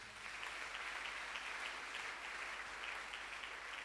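A church congregation applauds and cheers in a steady, sustained wash of clapping heard from a distance, fairly faint with no clear voices.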